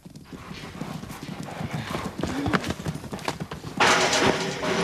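A wild mustang moves about in a corral with steady clip-clop hoofbeats on the ground and a whinny partway through. The sound is close and continuous, with a louder burst of movement near the end.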